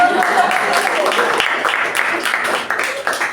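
A room full of people clapping steadily, fairly loud, with some voices mixed in.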